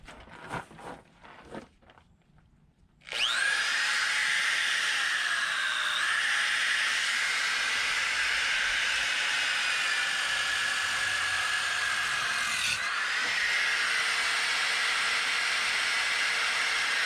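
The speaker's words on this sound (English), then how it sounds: "I'm just going to cup this a little bit and see how that works out with the sander" Power sander on a wooden hull plank for a Tahiti gaff cutter, starting after a few soft knocks and then holding a steady, loud, high whine up close with a slight change in pitch partway through.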